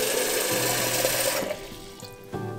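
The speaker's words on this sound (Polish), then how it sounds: "Zalej wodą." Water poured into a scalded glass jar holding two spoonfuls of seeds for sprouting: a steady, close splashing hiss that thins out toward the end before a brief renewed burst.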